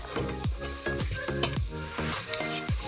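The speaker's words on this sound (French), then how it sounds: "On va laisser mijoter" Mussels with garlic and cream simmering in a pan while being stirred, a close, steady sizzle broken by a series of regular low thumps and scrapes roughly every half second.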